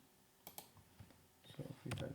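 Sparse, light clicks of a computer keyboard as a few numbers are typed in, soft and close with a quiet room behind them.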